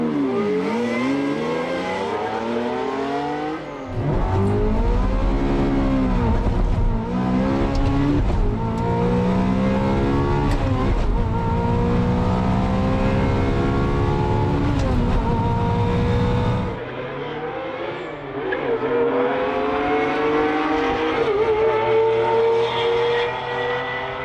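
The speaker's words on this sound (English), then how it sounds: "event sponsors Cultura Auto Lifestyle decided to go heads up in a Ferrari 355 Challenge and Lamborghini Diablo" A Ferrari 355 Challenge and a Lamborghini Diablo racing heads up, their loud high-revving engines climbing through repeated gear changes, with a brief lull before a final hard pull.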